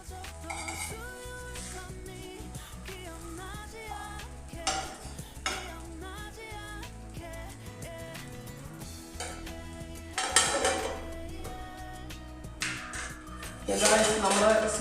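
A bread and chocolate snack frying in a pan and being turned over, with soft sizzling under clinks and scrapes of a utensil; a voice talks over much of it.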